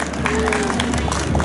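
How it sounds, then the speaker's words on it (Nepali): Audience clapping for a guest at a Nepal festival in Kansai, a loud dense wash of hands mixed with crowd murmur and a faint tone, continuous for the whole moment. "कृपया जोरदार ताली"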